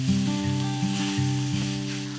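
Beef browning to a crisp, dark crust in a cast iron pan gives off a steady, close sizzle that runs throughout, beneath sustained background music.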